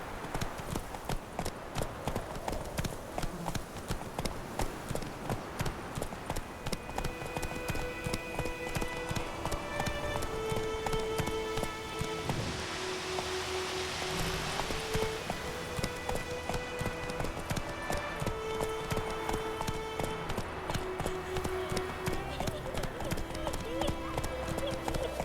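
A horse gallops in The Witcher 3 video game, with a steady rapid clip-clop of hooves running throughout, a brief whinny, and game music and a voice over it.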